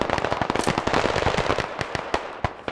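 Gunfire in a squad-based sniper shooter video game: a dense, rapid series of sharp cracks and pops, some close and loud, others more distant, crackling on continuously.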